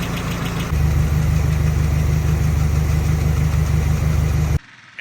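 A Nissan Z24 engine with freshly adjusted valves idles close up, a steady, even rumble that rises in level about a second in and runs unchanged until it cuts off abruptly near the end.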